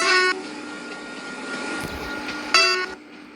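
Two horn blasts from a train in a night-time rail driving simulator, one at the start and another near the end, each loud and harmonic over a steady rumble of the running train.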